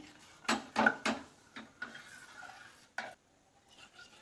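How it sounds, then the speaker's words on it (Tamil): Urad dal porridge being stirred in a cooker over a medium flame, a few scraping strokes against the pot in short bursts, with faint clinks and quiet gaps between them. "மீடியம் ஃப்ளேம்லேயே வச்சு தான் நம்ம கிளறிட்டே இருக்கணும்."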